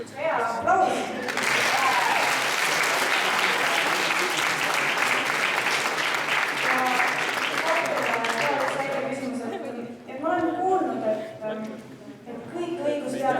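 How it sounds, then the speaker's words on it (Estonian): Loud sustained applause from a hall audience at a dance event, continuous clapping for about eight seconds, then fading as a voice speaks over the tail. "Hea, aplaus!"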